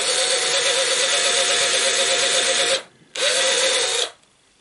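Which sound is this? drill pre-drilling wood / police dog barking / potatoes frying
drill pre-drilling wood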